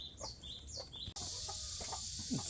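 A Cheonggye (Araucana) hen brooding eggs gives a few soft, close chirping clucks in quick succession. A sudden steady hiss of background noise follows and covers the rest.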